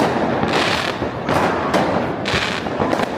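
New Year's Eve fireworks burst in a street in Germany, a rapid run of loud, close cracks and booms over a constant crackling roar.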